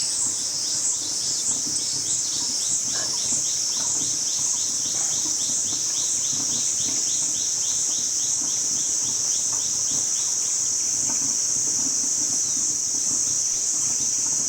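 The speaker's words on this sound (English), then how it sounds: "Hearing the insects, birds." Outdoor ambience with a constant high-pitched insect drone and rapid repeated bird chirps, fairly close, with no voices.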